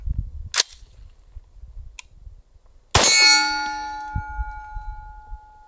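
A single sharp report from a rifle fitted with an OSS 7.62 suppressor cracks out midway, followed by a ringing metallic clang that decays slowly, with quieter clicks and handling noise before it.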